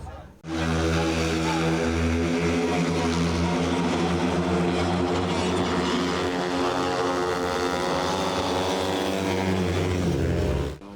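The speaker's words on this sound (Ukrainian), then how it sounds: "500 кубовий мотоцикл, який їде зі швидкістю 120 км за годину" A 500cc speedway motorcycle with no brakes and a single gear racing at about 120 km/h at an open championship meeting in Rivne, Ukraine, a loud, sustained engine roar that swells and holds close by for nearly the whole clip.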